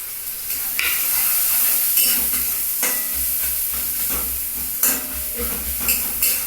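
Onions frying in a pan with salt and turmeric, a steady sizzle with intermittent stirring scrapes and clinks, close and fairly loud, no talk.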